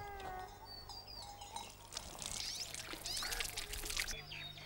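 Drinking water poured out in a Hindi telefilm scene, a faint light trickle under background sounds and brief voices.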